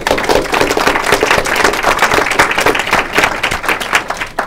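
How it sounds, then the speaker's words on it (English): An audience at a memoir-writing talk applauds, a dense, steady wash of many hands clapping that stays loud and close for the whole stretch, with no voices standing out. "How about a round of applause"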